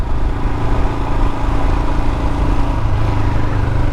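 A Royal Enfield Himalayan motorcycle engine drones steadily at cruising speed on country lanes, loud and close, with wind rush and no talking.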